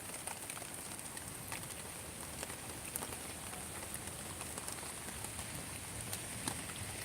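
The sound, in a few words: light rain falling in Salerno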